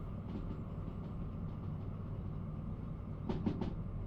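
A short train runs along flat track in Derail Valley, gaining speed, with a steady low rumble and faint clickety-clack, plus a cluster of sharper clatters near the end.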